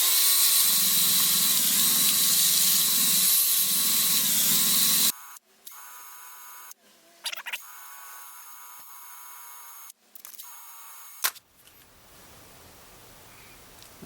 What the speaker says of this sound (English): I'm just going to spin this out on some sandpaper, and it'll make it perfectly round.